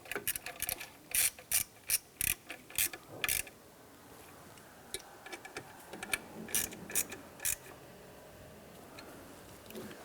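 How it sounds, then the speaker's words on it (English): Three longer bolts being run in on a Ford Five Hundred water pump, with a burst of sharp ratchet clicks followed by quieter, scattered ratcheting and metallic ticks nearby. "Now we're just going to finish running the 3 longer bolts in."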